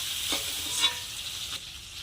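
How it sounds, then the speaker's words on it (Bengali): Fish pieces frying in oil in a kadai, a steady close sizzle with a few brief spatters and a louder scrape or pop partway through. "সব মাছগুলো আমি একইভাবে ভেজে নেব"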